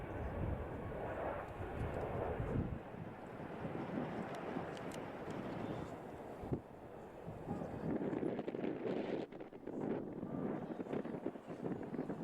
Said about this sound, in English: This Boeing 757 was forced to land too fast due to its flaps being stuck in the takeoff position.